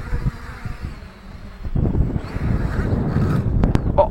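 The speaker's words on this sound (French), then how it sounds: "Il y a du vent, hein. Vous l'entendez peut-être dans la caméra, il y a vraiment du vent." Wind buffeting a camera microphone outdoors during a JJRC X2G brushless drone flight test, a continuous rumbling low roar that swells and grows louder midway, with a faint high whine and a few sharp clicks near the end.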